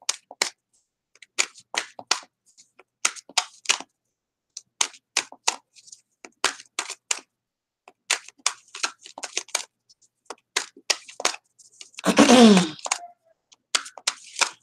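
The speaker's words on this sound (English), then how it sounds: "We just gonna shuffle and shuffle and shuffle." A deck of tarot cards is shuffled over and over in a quiet room, producing sparse irregular snaps and riffles up close, with a short louder burst of rustling near the end.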